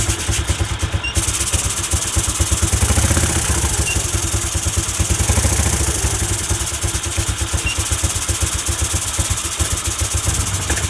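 A Suzuki Skywave automatic scooter's engine runs close by with a loud, rapid putter and clattery idle, its pace rising and easing slightly, while it spins a clutch lining against sandpaper during a clutch-shoe replacement.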